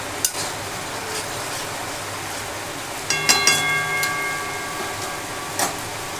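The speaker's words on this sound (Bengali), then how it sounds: "সমস্ত পেস্টগুলোকে ভালো করে এবার কষিয়ে নেব।" Spice pastes sautéing in a pan for a Bengali egg curry, a steady close sizzle with scattered clinks and scrapes of a spatula against the pan, a cluster of sharper taps midway, no voices.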